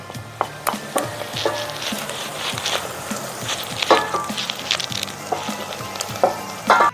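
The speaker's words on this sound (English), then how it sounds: "We're going to saute the shallots until they become translucent" Shallots sautéing in a pan with sage, rosemary and tarragon, a soft close sizzle under scattered clacks of a spoon or spatula stirring, louder knocks near the end, and no voices.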